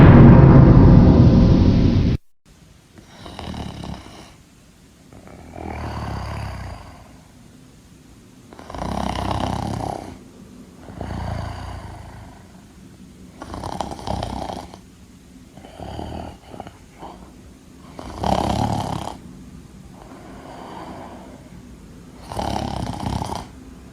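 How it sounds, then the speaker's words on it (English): Loud, slow snoring played by a Numberblocks character: deep rasping snores repeat about every four seconds, each a long swelling rumble, following a brief loud burst at the start, with no talking. "Not number block 79's rubbish snore."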